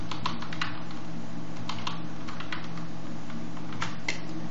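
Fast typing on a computer keyboard, a string of crisp close key clicks in quick uneven bursts over a steady low electrical hum.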